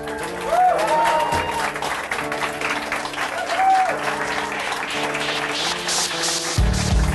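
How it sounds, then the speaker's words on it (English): A wrestling show audience applauds a guest being introduced, sustained loud clapping and crowd noise throughout with music playing underneath. "He's stringing out that applause."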